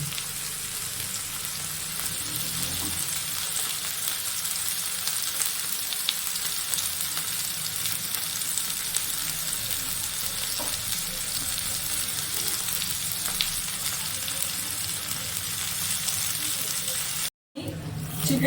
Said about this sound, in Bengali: এবার অপর পিঠটাও আমাকে চারিদিকটা ঘুরিয়ে ঘুরিয়ে ভেজে নিতে হবে